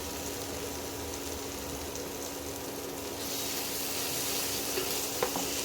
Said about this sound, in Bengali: এবার মশলা থেকে আস্তে আস্তে তেল ছাড়তে আরম্ভ করেছে